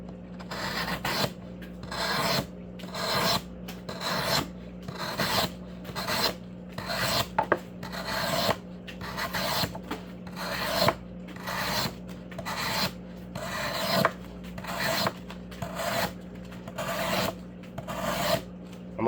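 A Spyderco Para 3 knife with a MagnaCut blade slices repeatedly through cardboard, making a steady series of rough, rasping cuts about one per second, close and fairly loud, with no talking.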